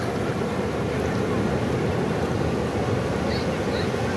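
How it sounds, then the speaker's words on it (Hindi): Big ocean waves crash and wash continuously at Jeffrey's Bay beach, a dense close roar with wind noise on the microphone and a couple of faint high chirps near the end. "बहुत बड़ी वेव आ रही है,"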